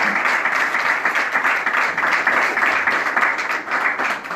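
Audience applause at a Paris press conference for a concert, a dense, steady wash of many hands clapping close by for the full length, without talk.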